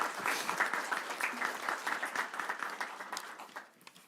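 A round of applause from attendees at a school board meeting, brisk clapping from a modest group that starts strong and gradually thins and fades away toward the end, with no one speaking.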